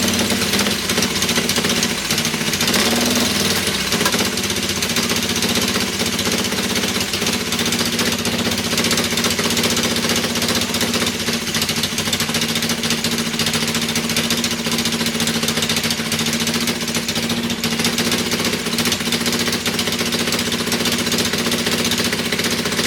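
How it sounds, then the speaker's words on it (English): An engine on its first startup runs steadily for the whole stretch, revving up and hunting for idle with a continuous mid-pitched drone and some knocking clatter, loud and close with no talking. "I wasn't even touching the gas barely and it started revving up more."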